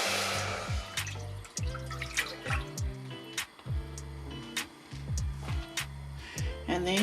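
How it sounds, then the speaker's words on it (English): Water poured into a cooking pot for coconut oat porridge, a soft irregular trickle and splashing with dripping accents, close and fairly quiet, with no talk over it. "so we start by adding our water to the pot."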